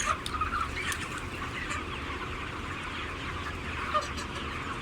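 A large flock of chickens in a barn holding up to 20,000 birds clucks and murmurs in a dense, continuous background chorus, with occasional sharper calls standing out.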